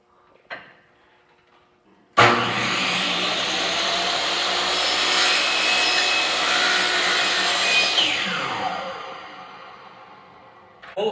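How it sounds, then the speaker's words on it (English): A miter saw set to 45 degrees cutting a wooden keepsake-box board, a brief light knock, then the blade spins up suddenly into a loud whining rasp for about six seconds before winding down, with another knock at the end. "on the miter saw, but I want to turn it to 45 degrees. And I'm going to miter the ends."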